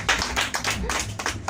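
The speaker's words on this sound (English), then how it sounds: "Let's clap for them. Please be clapping for them." A group audience at a church Bible quiz claps for a team, giving a burst of dense, close, uneven hand claps that carries on through the whole short stretch.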